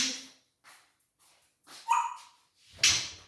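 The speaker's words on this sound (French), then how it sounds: "Attendez, je vais rentrer juste mon chien." A pet dog barks at a home doorway while being let back inside: a few sharp, close barks and yips separated by short pauses, with a brief whimper and no talking.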